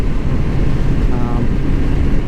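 A 1981 Honda CB750C motorcycle engine idles near 1,800 RPM, a steady, close, low rumble that runs evenly throughout.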